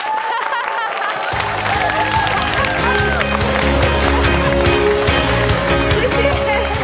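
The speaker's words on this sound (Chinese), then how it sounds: "我们掌声欢迎今天的特别来宾姚立明老师" Studio audience applause welcoming a special guest on a Taiwanese talk show, loud sustained clapping with cheering that swells in after a second, layered under bright, busy theme music.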